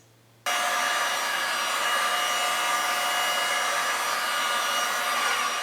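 A heat tool switches on and blows with a steady, loud, close whooshing roar, heat-setting paint colors.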